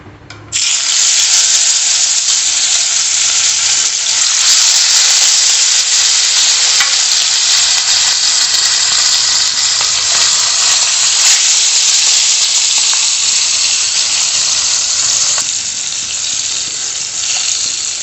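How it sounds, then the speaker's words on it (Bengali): Hilsa fish pieces frying in hot oil in a kadai give a loud, steady, dense sizzle that holds evenly throughout with no talking, easing slightly near the end. "এবার আমি মাছটা দিয়ে দিচ্ছি"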